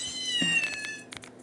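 A kitten meows in the Nintendogs + Cats video game, one drawn-out, clear, fairly close call that slides in pitch, followed by a brief softer chirp, with low background hum throughout.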